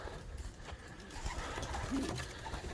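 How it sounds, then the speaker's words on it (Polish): Racing pigeons coo softly in low, throaty murmurs, close by in a quiet enclosed loft with faint rustling around them. "Bardzo piękne gołębie."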